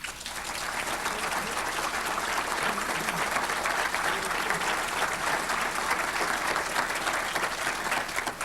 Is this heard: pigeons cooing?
no